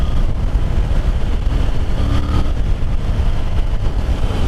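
A 2021 Triumph Tiger 900 Rally Pro motorcycle engine drones steadily while riding, a dense, even roar of engine and wind noise with no talking.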